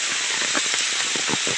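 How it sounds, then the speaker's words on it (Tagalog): Heavy rain falling in a forest, a dense continuous hiss with scattered patters of drops on leaves and surfaces, steady and close throughout. "Malakas na ang ulan"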